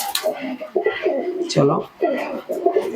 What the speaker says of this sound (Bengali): এটা হচ্ছে এখানে আমার ধরো টেডি কবুতর আছে